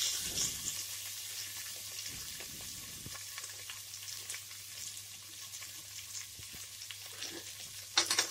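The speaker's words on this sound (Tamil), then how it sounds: "வெங்காயம் நல்லா வதங்கட்டும்" Onions sauté in hot oil for tomato rice, with curry leaves and green chillies in the pan, giving a steady, moderate sizzle with a few stirring scrapes and a louder clatter near the end.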